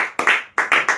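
A congregation at a church service claps their hands together as an offering of praise, a few sharp, close claps in quick succession with no voices over them.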